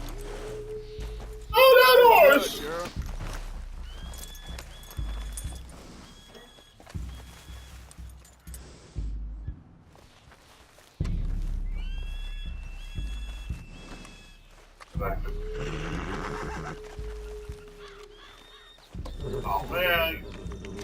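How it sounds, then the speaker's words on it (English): Horses in Red Dead Redemption 2, with hooves clip-clopping and a couple of loud whinnies, heard between and under excited voices talking. "The horse, the horse. Oh, that horse!"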